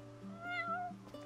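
A cat in the Final Fantasy XV video game gives a single clear, rising-and-falling meow, close and moderately loud over a steady game music background.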